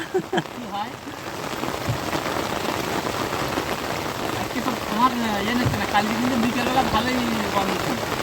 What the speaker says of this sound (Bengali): বর্ষা কিন্তু অনেকক্ষণ ধরে হচ্ছে, থামার নাম নিচ্ছে না